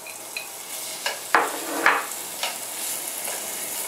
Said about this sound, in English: And bake, fry and saute pork.